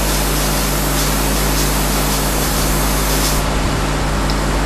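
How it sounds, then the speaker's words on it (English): A nitrogen spray gun blasts a steady, loud, broadband hiss as it dries a sample in a thermal evaporation cleaning and lift-off process, continuous for the whole stretch with no voices. "Spray the sample with nitrogen, moving the gun from side to side."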